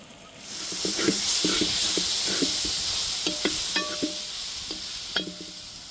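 Masala for egg tikka masala curry frying in oil, a continuous hiss and sizzle with periodic scraping stirs, close and fairly loud.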